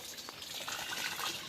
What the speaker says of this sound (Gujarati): ફૂલ ટાંકી ભરી છે, પાણી નહોતું આવ્યું તો પાણી આવી ગયું છે.